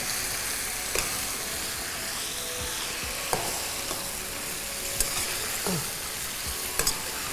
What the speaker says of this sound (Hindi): पहले हम इसको मिक्स कर लेंगे।